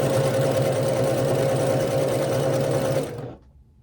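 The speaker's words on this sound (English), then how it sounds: "I'm just going to sew down, leaving my needle down and going right to the next one and just chain piecing these together" A sewing machine runs steadily and loudly while chain piecing quilt squares from a herringbone quilt kit, with a continuous motor whir that stops abruptly near the end.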